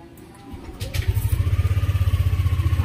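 A Yamaha Aerox scooter, just after a full CVT cleaning, starts up and settles into a quiet, steady idle: a close, low, evenly pulsing engine hum that continues alone.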